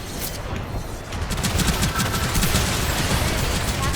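Rapid cannon fire in a Gundam video game, a dense, loud barrage of booming shots with a rumbling low end, sustained for the whole stretch.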